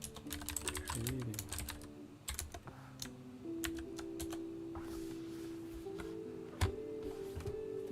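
Fingers type on an expensive computer keyboard with a worn keyboard pad, giving clusters of quick, close clicking keystrokes with short pauses, over a faint steady background hum.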